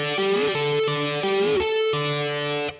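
Overdriven electric guitar playing a short double-stop lick, with bent notes repeating in quick phrases, close and steady, ending on a held chord.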